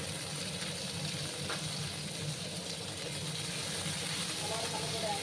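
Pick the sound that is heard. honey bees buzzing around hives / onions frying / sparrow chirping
onions frying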